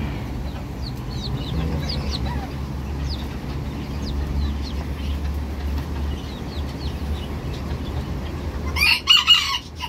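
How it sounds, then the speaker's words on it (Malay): Faint bird chirps and low rumble give way to a loud, close Java green junglefowl rooster crow near the end. "kokok dia merdu sangat"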